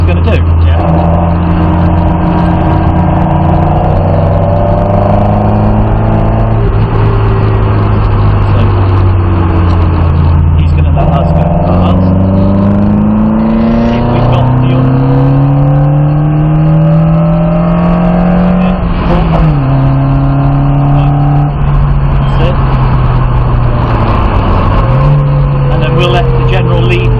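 Lotus Cortina racing on the Abingdon Airfield circuit, heard from inside the car: the engine is loud and close, revving up through the gears, easing off into corners and climbing again, while people talk over it.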